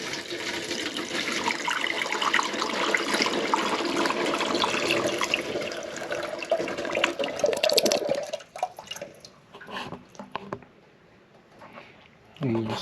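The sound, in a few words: pouring liquid through a funnel into a jug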